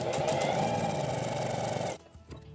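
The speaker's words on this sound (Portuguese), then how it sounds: "a gente vai passar uma costura reta" A sewing machine runs steadily, stitching a straight seam along the edge of fabric for about two seconds before stopping, followed by a faint shuffle.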